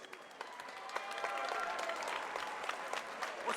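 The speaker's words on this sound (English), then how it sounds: "Give these athletes a massive round of applause," A crowd at a professional featherweight MMA event breaks into applause for the fighters after the bout. The sustained clapping swells and holds, slightly distant, with scattered sharp individual claps standing out.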